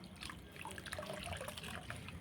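Water squeezed by hand out of mashed banana flowers into a vessel, soft close trickling and dribbling with small splashes, no talk over it.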